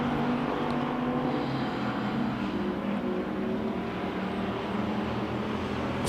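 Wissota pure stock race cars roar around a dirt track at a steady, dense engine drone, several cars bunched together at loud, constant volume with no voices.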